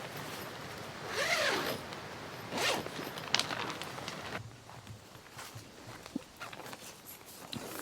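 Several French F1 Commando military tent door zippers pulled open in quick sweeping strokes, close and fairly loud, with a few soft handling taps between them.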